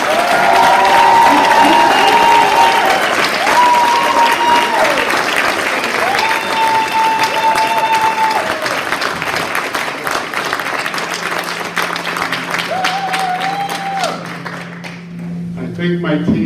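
A hall of fame induction crowd for a high school athletics ceremony claps and cheers loudly and continuously, sustained dense applause with whoops over it, tapering near the end as a voice begins speaking.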